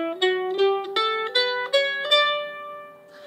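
A major scale starting on D played as a quick rising run of bright, plucked-sounding pitched notes, each attack sharp and decaying, the last note left to ring alone.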